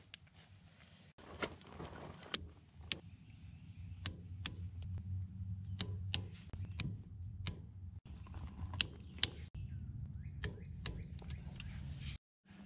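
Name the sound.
torque wrench tightening John Deere 755 tractor bolts to 38 foot-pounds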